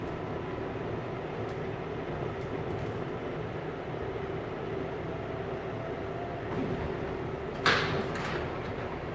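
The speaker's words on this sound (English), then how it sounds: "This is a Manhattan bound 7 local train." A Manhattan-bound 7 local subway train in Queens rumbles steadily with a constant low roar, a brief squeal or door clatter rising near the end.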